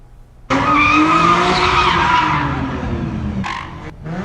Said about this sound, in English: A viewer shared this video showing cars doing donuts as fireworks go off.